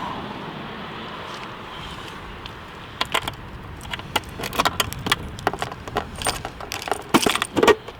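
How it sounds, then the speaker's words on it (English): Keys jingle and clink in a series of sharp metallic rattles, starting after a quiet stretch and growing busier, close up with no speech; the keys belong to an Eskuta SX250 electric bike. "There's your set of keys here."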